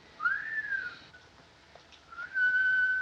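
A whistle supposedly swallowed by a man and lodged inside him: a clear rising whistled tone, a gap, then a second long steady whistle, fairly loud and with no talk.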